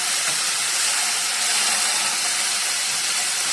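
Finely chopped onions and ginger garlic paste fry in hot oil in a pan for Coorg-style chicken fry, giving a steady, loud, unbroken hiss throughout.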